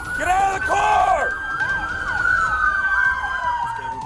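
Police car sirens wail and yelp loudly and close at a traffic stop, the rising and falling tones sweeping steadily while officers shout commands over them.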